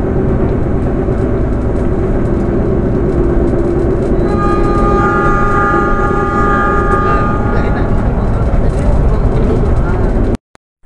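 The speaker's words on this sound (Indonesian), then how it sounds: "kereta api Mutiara Selatan mulai bergerak maju meninggalkan stasiun" A Mutiara Selatan passenger train departing Jombang station in Indonesia rumbles heavily and steadily, with a sustained horn-like tone rising midway through and voices faintly under the noise.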